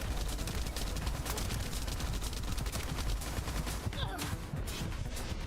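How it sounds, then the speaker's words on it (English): Dense, continuous gunfire in The First Descendant, rapid overlapping shots firing at the player amid a roaring, noisy fight that never lets up, loud and close throughout. "What is shooting me?"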